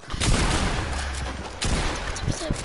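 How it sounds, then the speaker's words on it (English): Gunfire in a PS4 video game, a dense, continuous crackle of shots that sounds like a firefight, loud and close, with no talk over it. "Someone's shooting at me."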